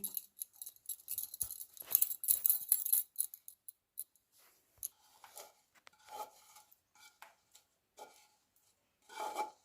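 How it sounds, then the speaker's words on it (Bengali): A sticky sugar, sesame and peanut candy mixture is scraped and poured onto a metal plate, close rasping and scraping strokes that come in irregular bursts, louder at first and then thinner, with no talk. "এটা এবার থালার উপর ঢেলে দিচ্ছি আমি"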